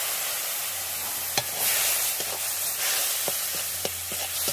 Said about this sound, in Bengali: দিয়ে আবারও কষিয়ে নেব, এটা ধুয়ে একটু জল দিয়ে মশলাটাকে কষিয়ে নেব